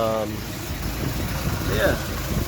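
A Plymouth Belvedere car engine runs at a steady idle, giving a continuous low rumble close by with a faint voice briefly over it.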